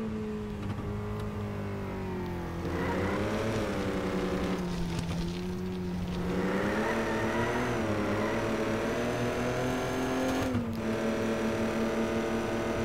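A truck engine in a winter logging video game drones steadily on pavement, its pitch rising and dipping as it accelerates and shifts, loud and continuous with no speech.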